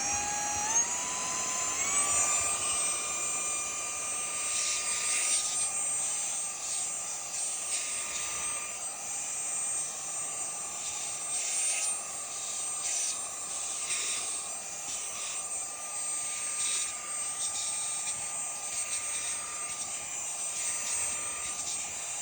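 A Paeudomrf portable cordless car vacuum runs steadily on its own, a high-pitched whining motor hum with a sharp electric tone that holds constant throughout, close and fairly loud with slight fluctuations.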